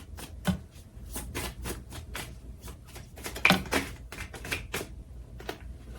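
Deck of oracle cards being shuffled by hand: a series of quick, crisp riffling and flicking bursts in an irregular rhythm, close and fairly quiet.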